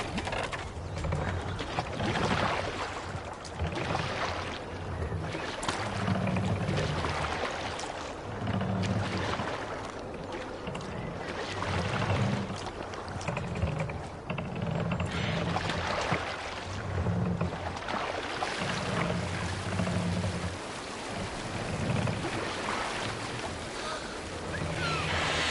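Viking longship rowing across ocean waves in the video game Assassin's Creed Valhalla: a continuous wash of surf and wind with rhythmic, evenly spaced low oar strokes pulsing beneath it throughout.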